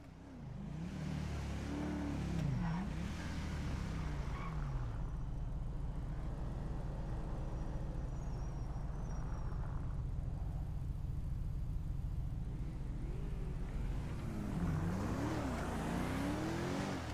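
A Dodge Durango engine driving in GTA 5 holds a steady, loud drone throughout, with rising revs near the start and again toward the end, and no talk over it.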